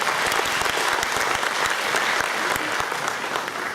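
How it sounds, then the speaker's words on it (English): An audience claps at an Indian community annual function, a loud, continuous round of applause with sharp individual claps standing out throughout. "Please give me a round of applause."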